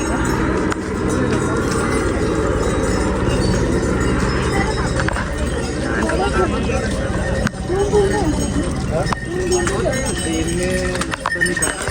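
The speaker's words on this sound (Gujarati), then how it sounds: "ખચ્ચરો અહીંયા સુધી આવે ઘોડા બધા જો" Steady clip-clop of hooves from mules and horses walking on the Kedarnath pilgrimage trail, mixed with constant voices and background bustle.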